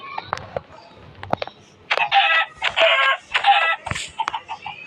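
A chicken clucks in short, loud, close bursts, with quieter clicks and rustles between them and speech mixed in.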